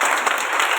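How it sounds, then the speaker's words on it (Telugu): Worshippers in a church service break into brisk, close, steady applause, a full and even burst of many hands clapping together. "దగ్గరగా చప్పట్లు కొడదామా?"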